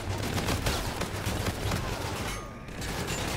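Rapid bursts of video game gunfire from dual akimbo HVR Gemini guns, a dense continuous clatter of shots running loud through most of the moment with a brief dip near the end.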